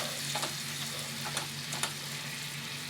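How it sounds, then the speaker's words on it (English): Ground beef being broken up and browned in a pan for Sloppy Joes, a steady close sizzle and fry with a few soft scraping stir clicks, no talking. "Break it up, brown it up, let it cook."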